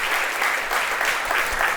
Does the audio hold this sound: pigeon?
no